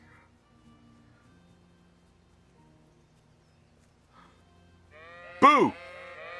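Sheep in the medieval game Kingdom Come: Deliverance give one loud, close bleat near the end, after a long quiet stretch of faint background ambience, with a brief spoken exclamation from a player.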